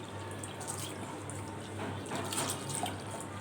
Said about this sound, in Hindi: हम 2-3 पानी इसको सही से धो लेंगे।